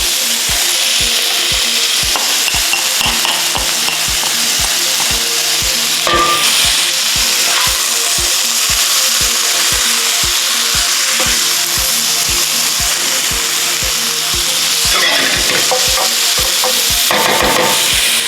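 Green beans stir-fried in a pan for vegetable lumpia, a steady close sizzle broken by a regular rhythmic scrape of a utensil stirring across the pan.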